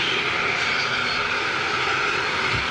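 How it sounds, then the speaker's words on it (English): A TUI Boeing Dreamliner jet rolls out, its engines producing a steady, loud whining roar that holds evenly throughout without any talk. "Is that TUI Dreamliner coming out?"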